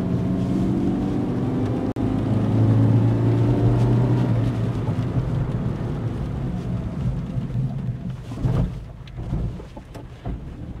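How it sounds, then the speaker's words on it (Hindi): A 2024 Changan Karvaan MPV with a 1200cc engine moving along a road, its engine a low steady drone with road rumble that fades and turns rougher and more uneven toward the end, no voices. "और इंजन नॉइस पे गौर कीजिएगा"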